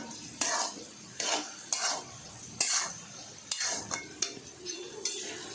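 Ground ginger, chilli and garlic paste being stirred in a pan for bhindi masala, with a series of distinct spoon scrapes and clinks against the metal at an irregular rhythm, close and moderately loud.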